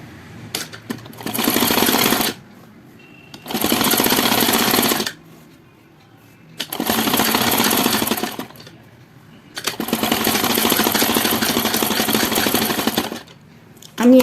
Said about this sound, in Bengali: আমি এবারে চাপ সেলাই নিয়ে দিচ্ছি